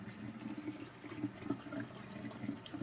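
Tap water runs over a K&N air filter during rinsing, a faint continuous splashing stream from a faucet with low, muffled gurgling and no talking.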